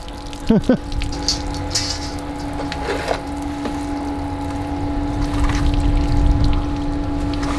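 Water rushes out of the pressure-side line of an RV water pump in a steady gush that swells toward the end, with a few knocks and a brief squeaky sound near the start.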